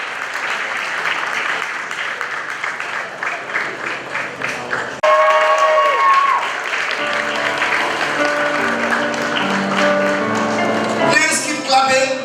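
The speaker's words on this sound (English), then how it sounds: "Please keep clapping. Keep clapping." Audience applause at a graduation ceremony honoured by the Asantehene Otumfuo Osei Tutu II and his wife, a steady wash of clapping that swells louder midway and keeps going beneath music and voices.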